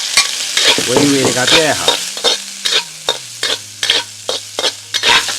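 Chinese cured pork sizzles loudly in a hot wok with a little oil, broken by rhythmic scraping stir strokes. A voice speaks briefly at the start.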